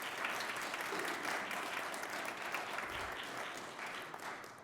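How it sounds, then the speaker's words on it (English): Dense, steady applause from an audience at a county candidate forum, many hands clapping together at a constant loud level and tapering slightly toward the end. "You can give them a round of applause if you like."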